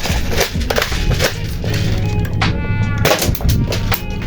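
Burst fire from an M690 double-barrel airsoft shotgun loaded with four BBs per shot: a run of loud, close, sharp reports in quick succession over a few seconds, with no talk.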